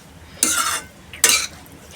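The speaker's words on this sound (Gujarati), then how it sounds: "હવે ધીમા ગેસે આપણે થોડી વાર આને હલાવીશું" Potato masala for dosa stirred in a pan over a low flame, two short scraping strokes about three quarters of a second apart, close and clear against a quiet background.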